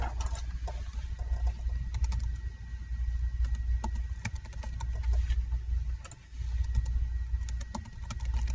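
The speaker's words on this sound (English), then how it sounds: "you have to type it twice to make sure that you are accurate there" Keys tapped on a computer keyboard while entering a new password into a login system, a steady run of light clicks set against a low background hum, close and moderately quiet with a short pause near the end.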